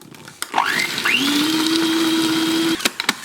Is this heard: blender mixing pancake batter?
yes